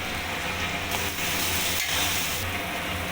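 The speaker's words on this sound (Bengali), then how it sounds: "মশলাটা ভালো করে ভাজা হয়ে গেছে এর থেকে তেল ছাড়ছে" Close, continuous sizzling of ground coriander, cumin and turmeric frying in oil, with a brief stirring scrape partway through and no talking.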